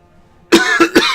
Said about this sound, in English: I'm going to cough a little bit here.